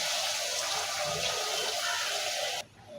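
Water pours steadily into a pan of desi chicken curry with a loud, close rushing gush that stops abruptly near the end.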